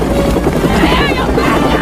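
A helicopter's rotor thrums with a churning, wind-like roar, loud and steady for a couple of seconds during an attack.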